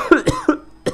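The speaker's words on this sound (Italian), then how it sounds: "mi prude la gola, devo tossire" Four quick coughs from a man playing a Pokémon Vega hack ROM, loud, close to the microphone and sharply spaced, with no talk in between.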